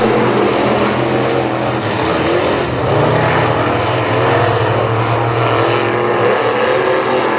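A dirt track race car at the Gator Dirt National accelerates hard during a ten-lap race, a loud continuous engine roar that stays dense and steady with no break.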